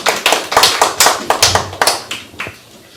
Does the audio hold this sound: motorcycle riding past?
no